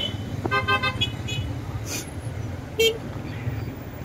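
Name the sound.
heavy street traffic with car horns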